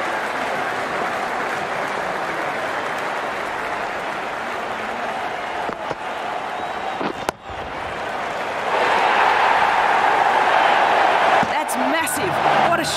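A cricket crowd at a CPL 2018 match between Jamaica Tallawahs and Guyana Amazon Warriors roars and applauds a big shot, a dense sustained wash of cheering that swells louder in the latter half, with commentary voices underneath.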